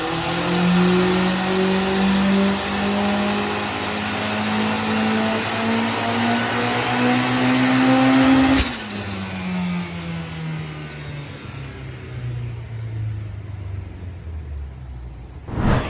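A Datsun 1200 ute with a turbocharged CA-18 engine revs hard on a dyno, its loud rising drone climbing steadily before a sharp cut and a falling wind-down that carries on to the end.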